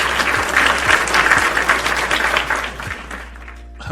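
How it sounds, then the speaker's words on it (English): Steady applause from a crowd, many hands clapping continuously and fairly loud, tapering off slightly toward the end. "Oh, alright, I got the applause."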